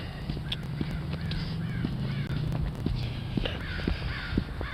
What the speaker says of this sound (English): crows and ravens are all out today